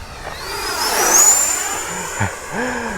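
FMS Integral EDF radio-controlled jet making a pass over a runway, its ducted-fan whine rising in pitch and swelling as it approaches, then fading away, with a faint thump near the end.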